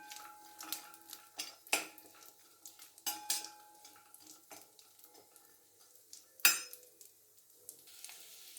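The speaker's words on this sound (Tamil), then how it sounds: "அதிலே கொஞ்சம் ஒரு கைப்பிடி அளவு ட்ரை கிரேப்ஸ் அதையும் போட்டு லேசாக கலர் சேஞ்ச் ஆகிற அளவுக்கு வறுத்துக்கலாம்." Raisins fry in ghee with a soft sizzle as a metal spoon stirs and scrapes the pan, making irregular clinks and taps, one of them louder, close by and fairly quiet.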